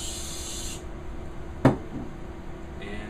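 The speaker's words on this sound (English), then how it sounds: "Then spray a few seconds worth of BustLoose in the cap." BustLoose penetrating lubricant sprays from an aerosol can into a cap: a steady close hiss that cuts off, a brief sharp knock, then the spray starts again near the end.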